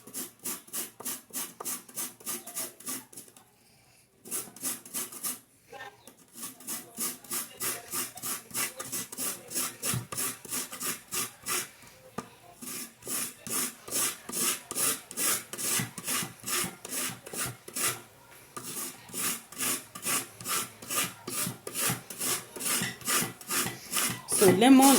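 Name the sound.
grating lemon peel with a grater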